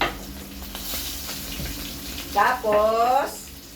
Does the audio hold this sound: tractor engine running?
no